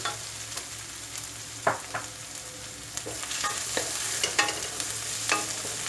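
Ginger garlic fries in oil for a quick potato masala served with puri, a constant soft sizzle punctuated by scattered scrapes and taps of a spatula stirring in the pan, heard close with no voices.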